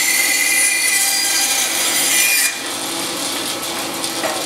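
Bandsaw blade cutting a curved line through wood, a steady close rasping cut that drops abruptly in level midway as the cut is turned, continuing more softly to the end.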